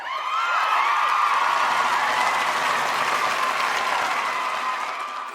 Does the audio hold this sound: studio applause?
yes